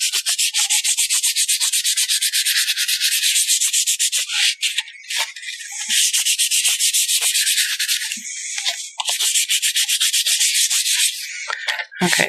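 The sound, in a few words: electric sander lightly sanding a sealed wooden surface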